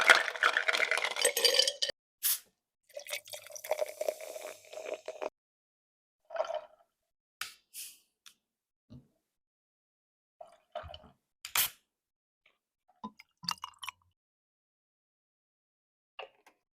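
Several sodas, Dr. Pepper, Baja Blast, Code Red and Fanta, are poured one after another into a cup in short separate bursts of splashing, fizzing liquid, close and fairly quiet, with silent gaps between pours.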